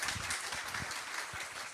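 Audience at a welfare policy talk concert claps in a soft, scattered burst of applause, individual hand claps audible at moderate distance, fairly quiet.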